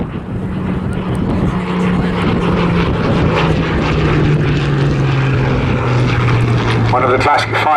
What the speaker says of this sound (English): you see coming in low and fast the venerable and mighty Hurricane